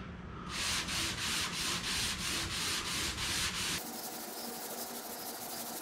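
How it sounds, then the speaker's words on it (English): A sanding block rubs paint runs smooth on a metal boat hull, a steady rhythmic scrubbing of even back-and-forth strokes at close range for several seconds, then stopping abruptly with faint room noise. "the sanding block worked out really well. Cleaned up all of the runs."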